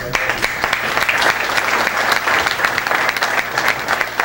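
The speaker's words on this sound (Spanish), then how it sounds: "Un aplauso, hermano, querido." An audience at a recognition ceremony for pastors claps steadily, a loud, close, continuous round of applause from many hands with no clear speech on top.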